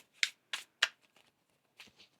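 A deck of tarot cards is shuffled in several short, sharp riffles close by, three quick ones and then two softer ones after a pause, with no talking.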